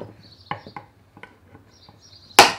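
Wood being cut for a workshop tool panel, a few sharp, separate cutting and knocking strikes at close range with quiet gaps between them, ending in one louder crack, amid faint chirping in the background.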